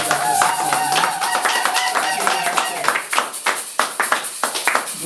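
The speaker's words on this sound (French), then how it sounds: "nous allons applaudir." Church congregation at a Sunday service applauding, dense rapid clapping under a voice speaking over loudspeakers, with the claps thinning into scattered individual hits toward the end.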